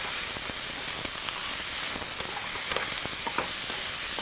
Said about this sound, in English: Onions are starting to brown.